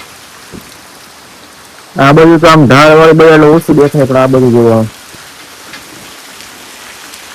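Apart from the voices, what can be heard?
heavy rain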